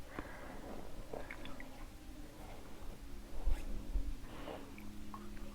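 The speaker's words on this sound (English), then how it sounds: "I'm going to squeeze that water out." A wet makeup sponge is squeezed to press out water, giving soft, close squishing and squelching sounds in a few irregular bursts.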